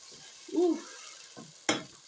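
Onion and garlic fry in a pan with a faint, steady sizzle, broken by a few soft stirring scrapes and one short, sharper clink near the end.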